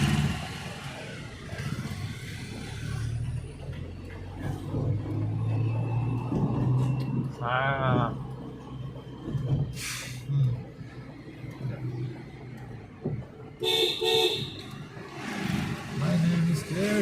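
A car's engine hums and accelerates as it pulls away, a steady mid-range drone heard from inside the vehicle, with someone talking over it at intervals.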